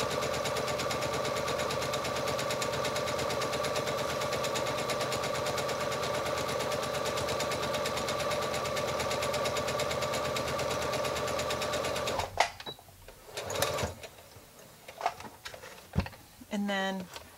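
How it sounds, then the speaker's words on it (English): A sewing machine sewing a reverse stitch hums loudly and steadily for about twelve seconds, then stops, leaving scattered handling noises and brief clicks. "I'm going to start that off, and I'm going to do the reverse stitch just to the outside of that presser foot."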